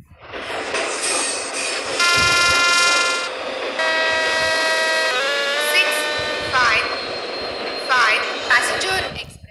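A train in the Indian Train Simulator game passes with loud rolling and clattering, sounding a sustained multi-tone horn in several long blasts, plus a few shorter honks near the end.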